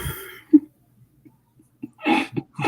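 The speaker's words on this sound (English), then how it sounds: "They're coughing." Coughs from a 1958 Dracula horror film come in short, scattered, mid-level bursts: one early cough, then a tight cluster near the end, with quiet gaps between.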